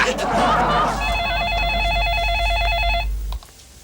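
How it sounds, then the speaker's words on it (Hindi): A telephone rings with a repeated electronic warble, several bursts over about two seconds, loud and close, stopping abruptly; a voice talks briefly just before the ringing starts. "ओफ ऐश्वर्या, क्यों मुझे बार बार फोन कर रही हो?"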